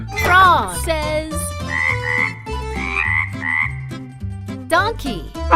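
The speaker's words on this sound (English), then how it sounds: "Frog says." A frog croaks in a loud, close, rhythmic series of deep, throaty calls, layered with higher chirping notes from other frogs throughout.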